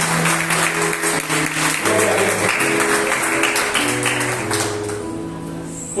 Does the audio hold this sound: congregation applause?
yes